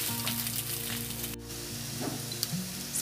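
Chilli chicken with spring onion being tossed in a hot pan, with a steady frying sizzle and a brief scrape or two over a low humming background, quiet and close, no talking.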